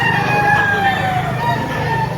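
A rooster crows at a busy Philippine chicken market, its long, drawn-out call standing out over steady crowd noise and low background rumble, fairly close and clear.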